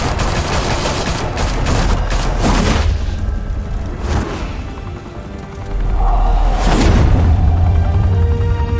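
Gunfire in the Batman: The Telltale Series video game, loud rapid bursts and booming shots in dense volleys, pausing briefly and then resuming, with no talking.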